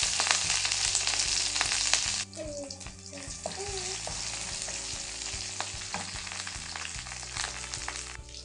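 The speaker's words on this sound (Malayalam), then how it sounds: "അതിലേക്ക് ഉള്ളി അരിഞ്ഞു വെച്ചതും 2-3 വേപ്പിലയും കൂടി ചേർത്ത് കൊടുക്കുക" Chopped onion and curry leaves hitting hot oil with mustard seeds for a green gram curry: a loud, steady broadband sizzle that drops slightly after two seconds, with light stirring scrapes and a few faint tonal clinks throughout.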